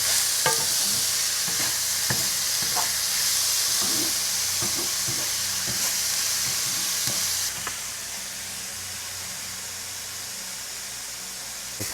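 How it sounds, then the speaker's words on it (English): Peas and ginger stirred in an oiled pan for a Lunar New Year meal, a continuous sizzling hiss broken by repeated clicking scrapes of the utensil, the sizzle easing near the end. "we're going to give all this a good mix"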